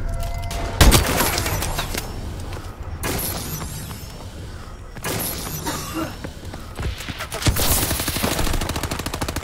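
Bursts of automatic rifle fire and sharp single shots crack out in Call of Duty: Advanced Warfare, a hardcore kill-confirmed match, with thuds and shattering between the loud volleys.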